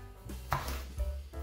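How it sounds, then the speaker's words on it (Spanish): A whole onion is cut on a board, a few quiet knife chops spaced unevenly over low background noise, close and faint with no speech. "Vamos a utilizar también una cebolla entera y lo mismo, partimos."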